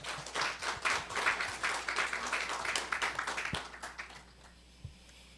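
A forum audience at a natural gas event claps to welcome a speaker, a moderate patter of many hands that fades out over a few seconds in a large room.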